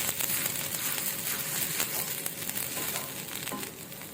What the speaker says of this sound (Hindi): प्याज को अच्छी तरह से भूनें।